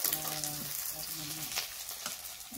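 Onion fries in a pan over a homemade wood-fired stove, giving a steady close sizzle and crackle. Faint tonal hum and short clatters sit underneath, and nobody talks.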